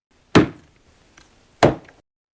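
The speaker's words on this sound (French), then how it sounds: "de fendre du bois avec une hache" An axe splits firewood for a fireplace in two sharp, loud chops about a second apart, each a solid woody crack with a short ringing tail, and quiet between them.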